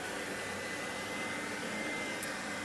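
A Hoover self-propelled Dirt Finder upright vacuum cleaner runs with a steady whirring motor drone and airy hiss, constant and fairly close, with no talking.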